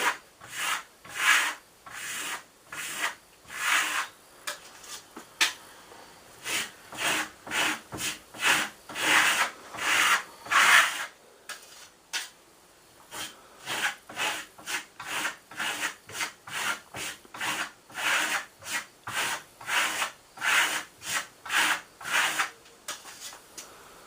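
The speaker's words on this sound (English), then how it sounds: "You can tell by the sound of my trowel that our surface is becoming much smoother." Rhythmic scraping strokes of a trowel smoothing a final finish coat of Marmorino plaster, repeated back and forth steadily and close up, with brief pauses between passes.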